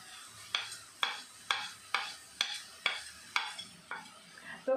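A spoon stirs pav bhaji masala and turmeric in a pan with sharp, regular scraping strokes, about two a second, over a soft sizzle, near and clear.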